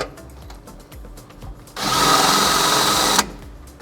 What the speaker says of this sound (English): We're going to remove the upper bracket and drill out the top holes